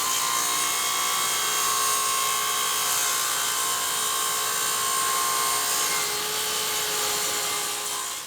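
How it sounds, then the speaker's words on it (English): Track saw cutting a resin table down to its final size in a woodworking shop, a loud continuous high-pitched whine of the blade through wood and resin, close and unbroken for the whole stretch. "we then take a track saw to the piece to cut it down to its final size"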